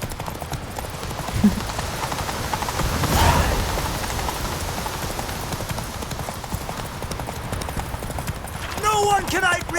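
Horse hooves gallop in The Witcher 3, a steady clip-clop rhythm running through the whole stretch under game ambience, with a brief burst of other game sounds near the end.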